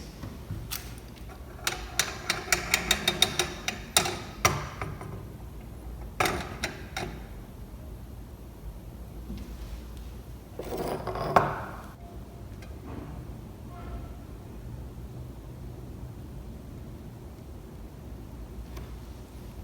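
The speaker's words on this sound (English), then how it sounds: "I'm going to slide the masses across the triple beam balances" Metal masses slid along the beams of a triple beam balance, a flurry of close, dry clicks and ticks early on, then a brief scraping slide and a few scattered taps over a quiet background hiss.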